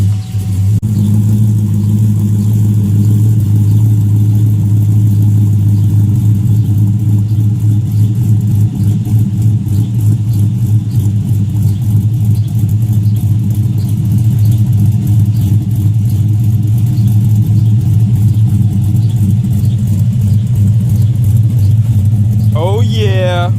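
A 2007 Chevrolet Avalanche V8 fitted with OBX long tube headers runs loud and close for the whole stretch, its deep steady exhaust drone holding with small rises in revs, and a brief high squeal near the end.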